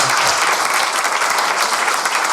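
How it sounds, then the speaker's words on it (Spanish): A conference audience gives loud, dense, sustained applause to welcome a speaker, with no talk over it. "Recibimos a Carles. Fuerte aplauso para Carles"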